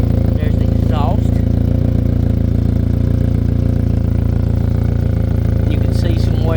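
The Subaru Sambar's engine idles steadily and loudly close by, its exhaust putting out an even, continuous drone. A voice speaks briefly over the running motor.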